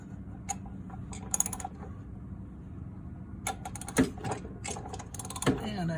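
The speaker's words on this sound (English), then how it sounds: "So now I take my socket wrench and I put it on there." A socket wrench ratchets a bolt loose on a John Deere D110 riding mower, with bursts of rapid clicking broken by short pauses and a few metallic clunks, close up and without talk.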